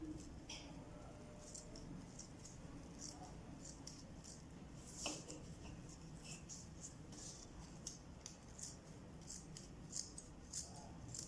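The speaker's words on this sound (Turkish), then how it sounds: "makasımda karton kesmekten biraz körleşmiş" Scissors with blades dulled from cutting cardboard snip through thick material, a steady run of short crisp cuts repeating close to the microphone over low background noise.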